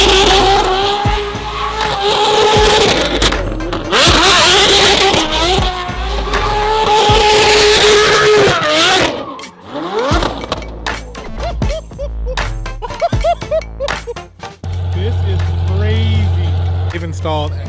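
A Ferrari 599 fitted with a handbrake revs loudly and drives off close by, engine roaring with squealing tires, then sputtering and cutting in and out, while people talk and shout over it.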